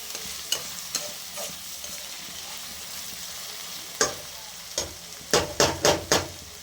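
Tomatoes frying in a pan for a Sunday mutton gravy, with a steady soft sizzle broken by a series of sharp scraping stirs, a few spaced early and then a quick cluster of strokes near the end, close up.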